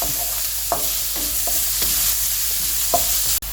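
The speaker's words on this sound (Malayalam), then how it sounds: "ഹൈ ഫ്ലെയിമിൽ ഇളക്കിയെടുക്കണം." Vegetables for restaurant-style egg fried rice are stir-fried on high flame in a pan, giving a steady loud sizzle broken by repeated scraping and clinking of the spatula, with no talking.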